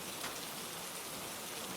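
Steady, dense rainfall on a surface, a continuous even hiss with no breaks, part of a cozy cottage thunderstorm ambience; no voices.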